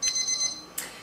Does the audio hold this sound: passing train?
no